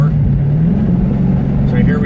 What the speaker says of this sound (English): now we'll do a little second gear roll on like before